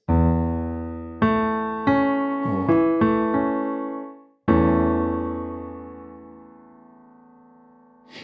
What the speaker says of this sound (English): a second inversion is the same idea, but with the fifth underpinning the root and third